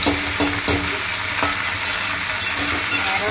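Okra cooks in a hot pan at night with a steady loud sizzle and frying hiss, broken by periodic scraping stirs, close up and with no talk.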